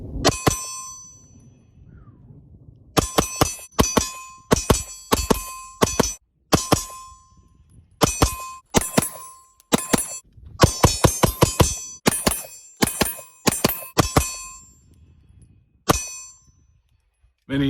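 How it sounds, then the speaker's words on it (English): Bullets striking a C-zone steel target at 10 yards from a new Atlas Hyperion pistol, ringing with sharp metallic clangs in quick strings of several shots, separated by short pauses, loud and bright. "finally got to shoot these things and got some C-zone steel at 10 yards"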